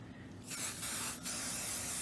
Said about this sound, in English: the first thing I'm going to spray is the front. I'm going to spray that braid